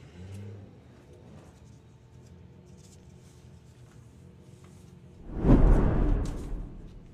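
A VW Pro drag race car accelerates at a sportsman nationals event: a faint, distant engine hum builds into a loud, roaring whoosh that peaks and trails off near the end.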